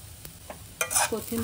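A spoon briefly stirs sabudana khichdi, giving soft scraping strokes against the pot over a faint sizzle, close and moderately loud.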